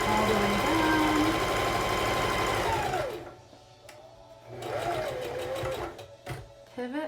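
A sewing machine stitches a dart on a fabric face mask, whirring steadily at first, then stopping and restarting in short bursts, with a voice talking over the machine.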